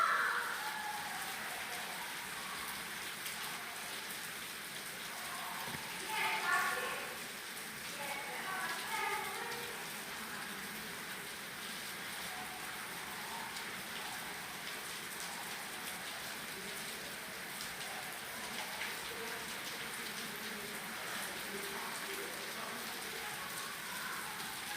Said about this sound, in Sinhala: හරි ෆ්‍රෙන්ඩ්ස් මෙහාට වහිනවා හොඳටම ඔයාලට සද්ද ඇහෙනවද දන්නේ නැහැ.